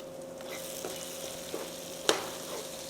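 Onions and tomato fry in a pan for a Chettinad chicken drumstick masala, a steady close sizzle broken by a few sharp scraping clicks of stirring, with no talking.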